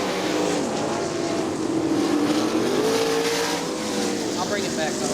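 410 sprint cars race at Crystal Motor Speedway in Michigan, their engines roaring loud and continuous as the field screams past, with an announcer talking over the din.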